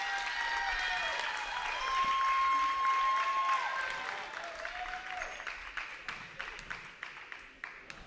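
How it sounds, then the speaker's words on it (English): Crowd applause at a high school basketball game, a full round of clapping from the stands that swells, holds, then thins into scattered claps, with faint voices in the background. "gets a nice round of applause"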